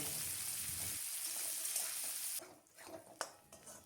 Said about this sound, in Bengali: হালকা সোনালি করে পেঁয়াজ ভেজে নিতে হবে।